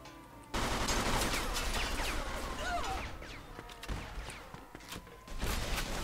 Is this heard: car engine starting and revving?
no